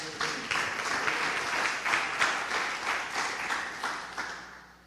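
A church congregation applauds the Lord during a sermon service, giving a dense, sustained burst of clapping that holds steady for several seconds, then tapers off near the end.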